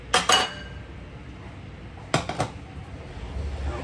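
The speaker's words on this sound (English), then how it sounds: "So let's move it from the stove." A cooking pan is moved off the stove with two quick metallic clatters, a pause, then another pair of clanks and a rattle, close by and without speech.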